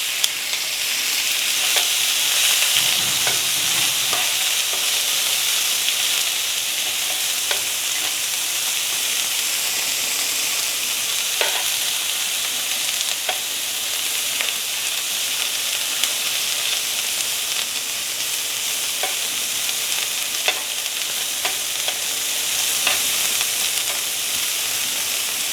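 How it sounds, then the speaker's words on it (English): Sous vide asparagus searing on a hot griddle, a steady close hiss and crackle of frying with occasional sharper pops and scrapes, continuous and without talk. "So we're going to sear these and do the same thing with our Brussels sprouts."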